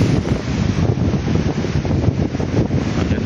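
Rough sea during a typhoon, with wind buffeting the microphone and waves surging in a continuous loud roar, no voices.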